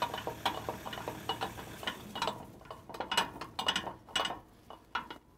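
Ratcheting clicks from a boat trailer's jockey wheel handle being wound, a steady run of close mechanical ticks and clatter with short pauses and no talk.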